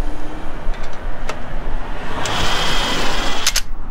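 Impact wrench buzzing close and loud in short rattling bursts as it snugs lug nuts on wheel spacers, with a denser whirring stretch toward the end.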